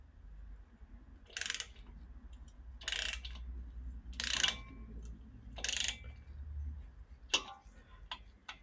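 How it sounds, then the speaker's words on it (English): A torque wrench tightens bolts on a VW 1776 engine during a build, giving spaced ratcheting clicks in four or five separate bursts over a low background hum, close but fairly quiet, with no talk. "So we're going to bring that torque round till we get to a point where we've got the first setting on there."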